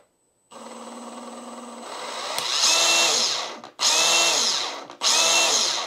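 Milwaukee M18 FUEL brushless 1-inch SDS-plus rotary hammer drill running in drill-only mode, a close motor whine ramping up with the variable speed trigger, then cut off and restarted in two loud bursts.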